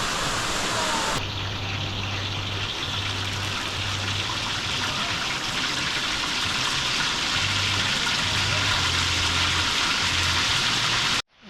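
Rapid rainy-season rain falls hard outdoors in the hills of Cambodia, a loud continuous wash of drops with an intermittent low hum beneath, until it cuts off at the end.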